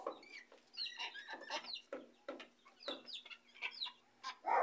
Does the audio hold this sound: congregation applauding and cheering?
no